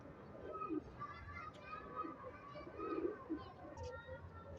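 Soft pigeon coos repeat over a busy background of distant chatter and children's voices, the calls low and murmuring.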